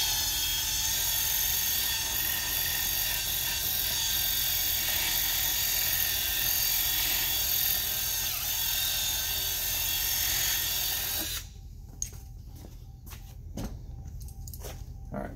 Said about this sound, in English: just get your drill and make your hole just a little bit bigger.